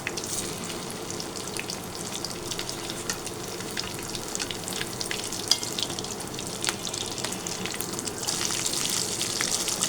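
Potato chops (aloo chop) deep-fry in hot oil, a dense continuous crackling sizzle that holds steady and close throughout with no voices.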